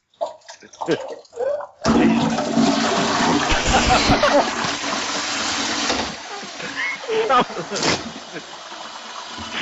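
A toilet flushes with a loud, close rushing roar that starts abruptly and gurgles on for several seconds as the tank drains, while people chatter before and over it.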